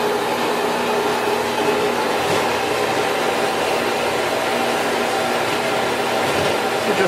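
A Harbor Freight bandsaw cuts steadily through a workpiece at slow blade speed, a continuous loud whirring drone with a grinding edge that holds unchanged from start to finish, with no talking.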